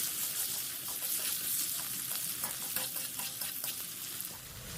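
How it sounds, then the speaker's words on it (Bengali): Chopped onions fry in hot oil in a kitchen, a continuous crackling sizzle with occasional stirring scrapes, steady and fairly close. "পেঁয়াজগুলো এখন একটু লাল লাল করে ভেজে নেব।"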